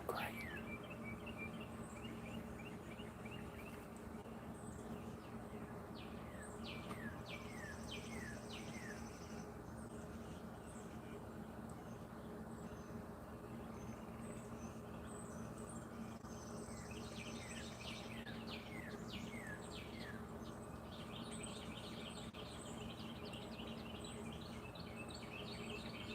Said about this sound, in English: Those birds sound great.